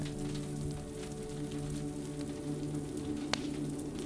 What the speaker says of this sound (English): carried on the luscious sound waves of tender rain and the crackling fire